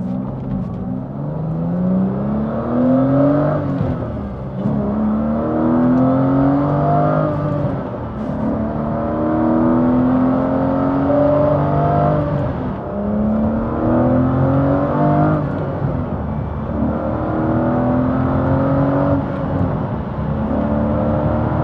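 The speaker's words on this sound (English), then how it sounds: "let's go for a drive in this Vanquish" An Aston Martin Vanquish under way gives a sustained engine drone that climbs in pitch through repeated gear changes, steady and loud, with no one talking.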